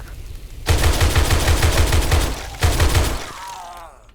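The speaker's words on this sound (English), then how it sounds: "that's a machine gun" Machine gun firing in a video game, two long rapid bursts of loud, close automatic fire separated by a short pause, then a trailing mechanical rattle as the shooting stops.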